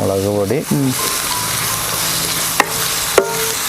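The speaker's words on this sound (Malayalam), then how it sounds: "ഇനിയിപ്പം ഇഞ്ചി വെളുത്തുള്ളി പേസ്റ്റ് ഇട്ടാ ഇതെല്ലാം നന്നായിട്ട് വഴറ്റിയിട്ട്" Ginger garlic paste sautéing in a pan for tapioca biryani, a steady sizzle under stirring, with a few sharp clinks of the spoon against the pan and a voice speaking at the start.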